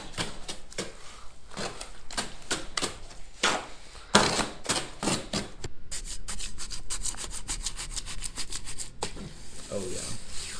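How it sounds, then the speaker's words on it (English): Sand, concrete and mortar clay are mixed by hand for a propane-tank forge, giving repeated close scraping and gritty rubbing strokes with faint voices at times underneath. "So we just finished mixing the concrete."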